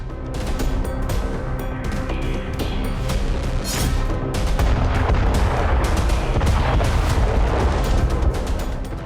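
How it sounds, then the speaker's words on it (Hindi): Explosions from an attack on Lebanon, a continuous loud, dense roar of blasts and rumbling booms with sharp cracks layered over heavy low-end rumble, close and sustained for the whole stretch. "एक विनाशक ब्लास्ट और इसके बाद बारूद से सना धुआं आसमान की तरफ उठता दिखाई दिया।"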